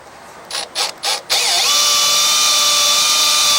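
A power ratchet on a long extension loosens bolts on an Ariens snow blower chute: three short loud bursts, then one sustained close, high whir.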